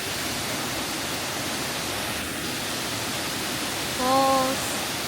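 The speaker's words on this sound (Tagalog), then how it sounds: "Falls." Broadband, steady rush of a waterfall at the Nunobiki Herb Garden in Kobe, heard continuously at moderate loudness, with a brief tonal whistle-like sound near the end.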